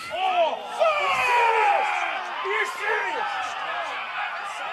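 The Mittagong bench erupts with loud, overlapping shouts and whoops at a second-grade rugby league match against Appin, many voices yelling at once from fairly close by.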